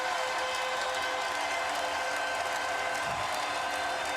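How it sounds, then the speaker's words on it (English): A packed arena crowd at Game 5 of the 2001 NBA Finals, 76ers hosting the Lakers in Philadelphia, gives Allen Iverson a standing ovation: a dense, steady roar of cheering and applause that fills the whole stretch without pause. "Standing ovation for Iverson."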